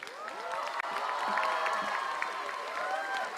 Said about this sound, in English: You heard all the women screaming?